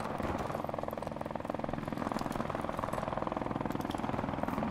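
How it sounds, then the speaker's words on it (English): An enemy helicopter in a shooter video game, with a loud, steady rotor chop and engine drone that keeps going throughout. "Enemy helicopter inbound!"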